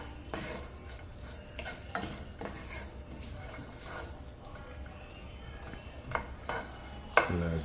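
Walnuts are tossed in a hot pan, a faint sizzle under soft stirring and scattered clinks and scrapes of the pan, with one sharper knock near the end.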